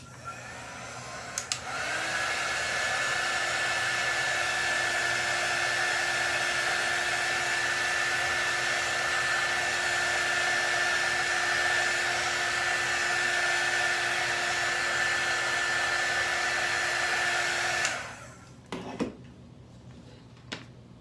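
A handheld dryer runs with a steady high-pitched whirring blow for about sixteen seconds while drying a Chalk Couture craft project, then clicks off, leaving a few faint handling sounds.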